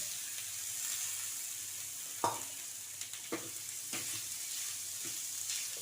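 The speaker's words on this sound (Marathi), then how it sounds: "आता पनीर चांगलं परतून घेऊया" Paneer and a spice mixture fry in a pan for a paneer paratha filling, with a quiet, continuous sizzle broken by a few sharp stirring knocks against the pan.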